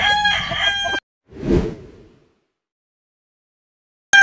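A gamefowl rooster crows once in a backyard farm, a loud, close call that is cut off abruptly. A soft rushing whoosh follows before the clip falls silent.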